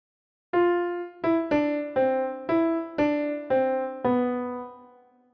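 Piano playing the melody of All Through the Night as single notes, eight clear struck notes in a slow, even rhythm, each ringing and fading into the next, close and alone with no talking.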